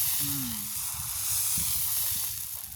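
A dosa made with sesame oil sizzles on a hot griddle, giving a soft, steady frying hiss with faint scraping underneath and no voices.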